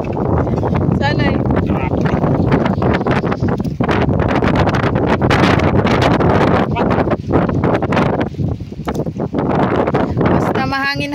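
Strong wind at sea on a choppy fishing trip roars continuously and loudly against the microphone, with voices talking underneath.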